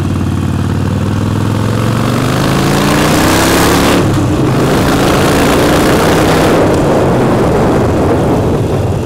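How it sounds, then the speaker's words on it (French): A Harley-Davidson motorcycle engine held around 3000 rpm roars loud and close, a deep, rumbling exhaust note that rises in pitch and then settles into a sustained, throbbing drone. "là je suis à 3000 tours minute quoi"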